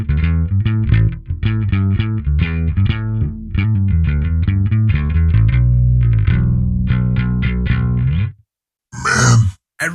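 An electric guitar played through the Neural DSP Parallax X bass plugin with its drive turned off, giving clean, punchy picked notes and chords in a rhythmic riff, ending with a brief pause and a short final strum.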